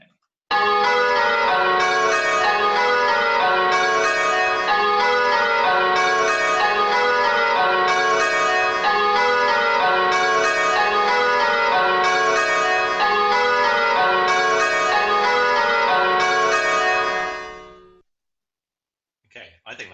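Church bells ring changes in a steady, sustained peal of overlapping tolls with a regular stroke rhythm, loud and continuous until the ringing stops near the end.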